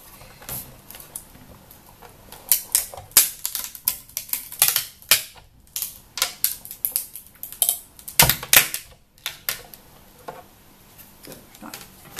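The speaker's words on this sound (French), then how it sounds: "Le bruit qu'on entend est le bruit de la découpe du plastique." A machine crunches through material in a rapid series of sharp clacks and creaks, irregular and close, with brief pauses between bursts.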